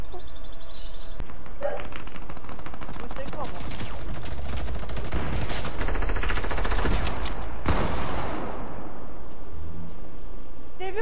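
Rapid bursts of Fortnite gunfire crackle in quick volleys, with voices talking over the shooting.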